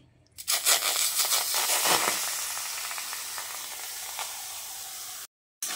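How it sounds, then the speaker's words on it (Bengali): Mashed eggplant drops into hot oil with frying green chillies and curry leaves, setting off a sudden loud hiss and sputter that settles into a steady sizzle before a brief cut of silence near the end. "এবার ঠিক এই পর্যায়ে আমি ম্যাশ করে রাখা বেগুনটা দিয়ে দিচ্ছি।"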